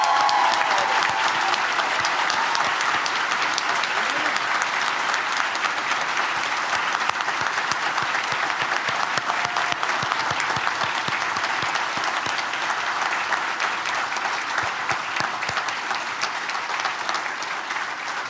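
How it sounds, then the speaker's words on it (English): Sustained applause from a large audience at the UMGC Europe 2023 graduation commencement, dense steady clapping filling the hall for the full length, with no speech over it. "how about a thunderous round of applause for these accomplished students?"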